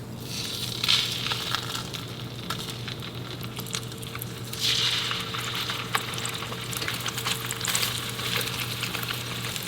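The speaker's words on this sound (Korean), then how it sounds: "연어를 절여놨다가 올리브유에 구워주겠습니다" Salmon steak frying in olive oil in a pan over medium-low heat, a steady close sizzle with soft crackle and brief swells of spatter, heard alone without talk.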